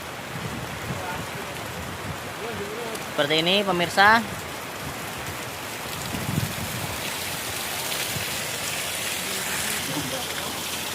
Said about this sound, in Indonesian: Nih hujan lebat sekali pemirsa.